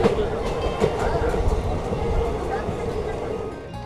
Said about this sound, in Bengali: তো এই মুহূর্তে কিন্তু ব্যান্ডেল স্টেশন ছেড়ে দিল আমাদের ট্রেন।